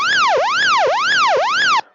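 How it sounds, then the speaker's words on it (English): RPM horn of a Bell 505 Jet Ranger X helicopter during start-up, a loud rising-and-falling electronic warble repeating about four times, close and continuous, then cutting off abruptly. "So that's just an RPM horn on the way up to make sure that's working."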